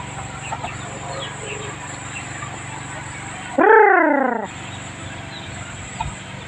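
A chicken lets out a short, loud squawking call over a quiet outdoor background with a steady high hum.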